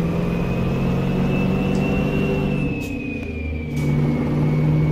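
Mack truck engine with a 12-speed Maxitorque transmission in American Truck Simulator, a loud steady drone whose pitch dips as the gear is split, then climbs again, with faint clicks during the shift.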